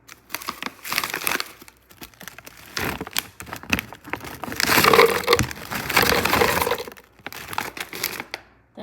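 Frozen strawberries tumble into a blender jar in several bursts of hard crunching, clattering impacts, loud and close, with brief pauses between pours and no talking.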